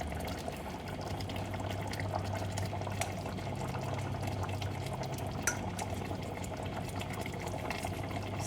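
A village-style salmon fish curry simmers in a pot, giving a steady, faint bubbling hiss with small pops. It continues evenly throughout with no voices.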